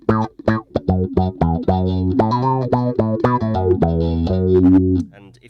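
A bass guitar played through an MXR Bass Envelope Filter pedal gives a run of plucked notes with a quacky, synth-like keyboard tone, rhythmic and close, ending in a sustained note.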